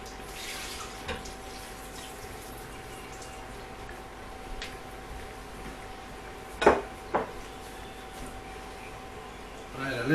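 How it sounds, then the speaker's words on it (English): Water pours out of a cooking pot into a kitchen sink as a soft, running splash, broken by a couple of sharp clanks of the pot against the sink. "I'm going to empty this water out"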